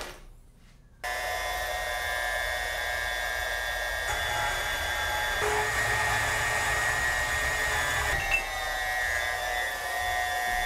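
Portaband bandsaw cutting aluminum V-rail, starting after a second of quiet and then a loud, steady high whine with a grinding edge, close up and unbroken to the end.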